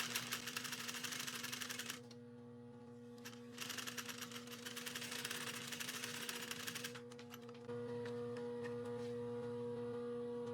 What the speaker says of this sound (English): when you go to sew, the presser foot will hold everything in place and it will do most of the work